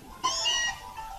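Meowth, the Pokémon, lets out a single drawn-out meow in Pokémon Sun. The cry is clear and high and holds for about half a second before trailing off against a quiet background.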